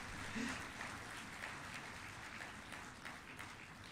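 Audience applause in a conference hall at a national mediation conference valedictory session: a faint, distant, continuous patter of clapping with no voices over it.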